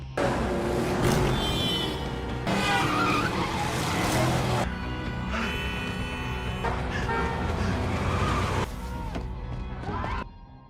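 Tires skid and squeal repeatedly in a car chase, with engines roaring close and loud over a full ten seconds, bursts of screeching cutting in and out against a steady motor drone.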